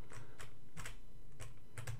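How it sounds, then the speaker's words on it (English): Rapid, uneven keystrokes hammered on a computer keyboard while playing the classic puzzle platformer Lode Runner, clattering close and loud in irregular bursts with no talking. "I'm sure you guys can hear me starting to pound on the keyboard"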